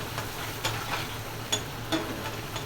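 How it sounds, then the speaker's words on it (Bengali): Masala spices frying in a pan, a steady soft sizzle broken by a few light ticks and stirring clicks, close and moderately quiet, with no talking. "মশলাটা একটু কষিয়ে নেব"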